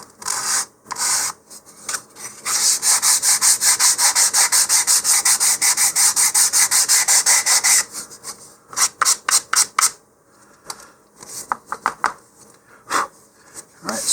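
Model rocket fin edges sanded with 220-grit sandpaper: a close, dry rasping in a fast run of rhythmic back-and-forth strokes, then shorter separate passes.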